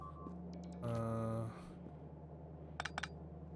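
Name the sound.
beeping alert in video game Gigafactory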